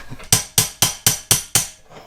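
Six sharp, evenly spaced metallic taps from a small hammer working on a Ducati motorcycle, close and crisp, each ringing briefly before the next strike.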